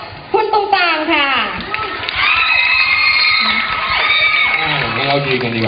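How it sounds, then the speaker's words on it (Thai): Crowd at a Central World mall event in Bangkok, cheering and shouting with clapping mixed in, loud and close, while an amplified voice talks over the noise. "เราขอเสียงปรบมือให้กับคุณอาและคุณตรงต่างค่ะ"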